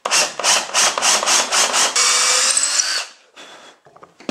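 A power drill bores a countersink hole in red oak, with about seven short rhythmic bursts of whining and cutting followed by a longer continuous grind that winds down, then a few faint clicks and knocks.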